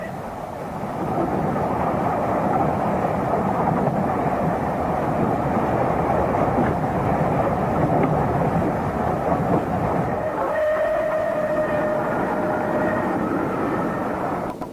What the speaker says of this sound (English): a train ran just ahead of City of Wells on the main line to enable us to get these views of a locomotive at speed